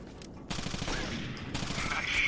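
Gunshots ring out in Rainbow Six Vegas 2, a few sharp reports in quick succession over a low, rumbling background.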